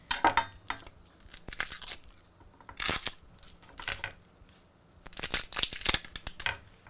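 A knife slices through small onions on a cutting board, giving a series of crisp, crunchy cuts in irregular bursts, near and fairly loud, with short pauses between strokes.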